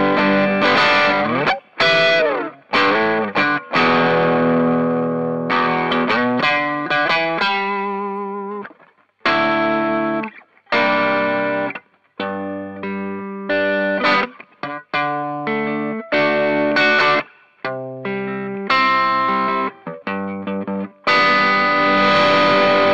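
Electric guitar through a germanium Rangemaster-style treble booster pedal, driven into thick distortion, then cleaning up as the guitar volume is rolled back; busy riffs and chords, close and loud with brief pauses, no talking.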